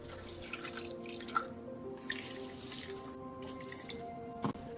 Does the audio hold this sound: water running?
yes